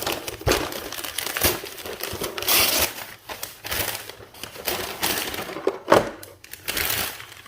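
Packing paper crinkled and crushed by hand while a boxed 1/72 scale Pegasus Hobbies T-26 Soviet light tank model kit is unboxed, irregular close crackling bursts with brief pauses.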